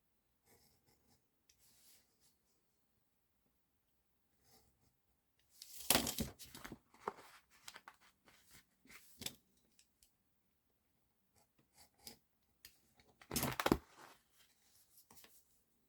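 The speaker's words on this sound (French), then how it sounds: "Donc vous allez couper avec un cutter." A utility knife cuts window openings out of a cardboard gift box, giving two bursts of scraping, slicing strokes separated by quieter gaps with faint handling noise.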